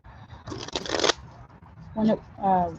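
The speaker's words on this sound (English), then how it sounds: "Cleo, while I'm shuffling the cards for this" Tarot cards are shuffled in a couple of brief, soft riffling bursts close by, with a voice speaking between them.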